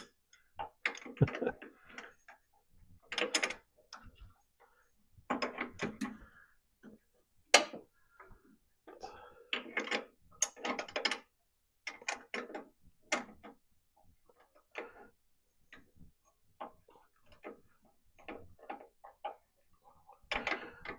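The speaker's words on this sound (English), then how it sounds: "with this little S wrench, you can sneak around the back of the fuel pump" An S wrench working at the fuel pump of an old Volkswagen Super Beetle, heard as a series of irregular metallic clicks, taps and ratcheting bursts with pauses between them, close and fairly quiet.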